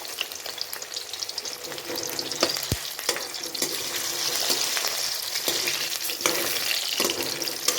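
Stuffed onions fry in oil in a pan: a dense, continuous sizzle and crackle with occasional sharper pops and spatters, loud and close with no talking.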